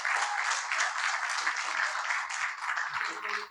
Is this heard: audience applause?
yes